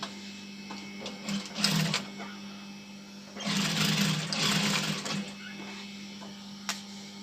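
A sewing machine stitches fabric for a heart-shaped decoration in two bursts of fast whirring, a short one early and a longer, louder run in the middle, with a steady hum and quiet handling between.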